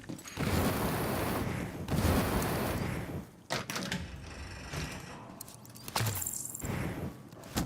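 Gunfire in the shooter game The Division 2: several loud bursts of rapid shots with sharp cracks and brief gaps between volleys.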